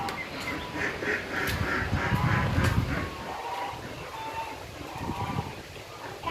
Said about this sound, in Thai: ดูเป็ดดูห่านกันบ้างนะคะ